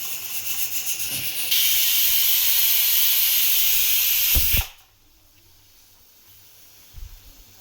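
A pressure cooker cooking chicken lets out a loud, steady hissing steam whistle for about three seconds, then cuts off sharply. Softer hissing and faint kitchen clatter follow.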